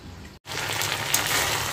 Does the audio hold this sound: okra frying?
yes